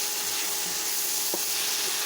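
Sliced sausages and vegetables sizzle steadily as they are stir-fried in a pan, a constant loud hiss with a single brief clink of utensil near the middle.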